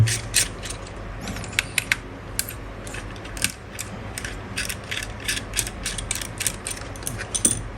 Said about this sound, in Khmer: ដោះខ្ចៅ4គ្រាប់អញ្ចឹងហើយ